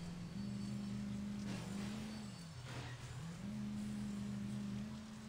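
Car engine from the Xbox 360 driving game Blood Drive, a steady hum that rises and dips as it revs and shifts, moderately loud and alone without voices.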